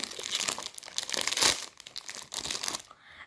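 Crinkling plastic and paper packaging of a Sonny Angel blind box being torn open, close and busy with a loud rip midway, then fading out.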